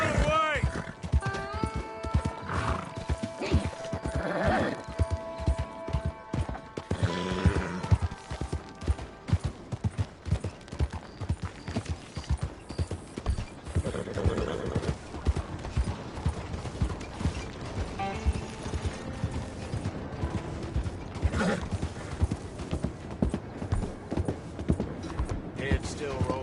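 A horse gallops in the video game Red Dead Redemption 2, with rapid rhythmic hoofbeats running continuously under game music and effects, and a voice talks over it.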